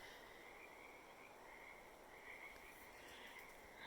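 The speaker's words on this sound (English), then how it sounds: "There must be a little marsh down in here. I hear the frogs going nuts." Frogs croak en masse in a small wooded marsh, a dense, continuous chorus with overlapping rasping calls heard from some distance, steady and fairly faint throughout.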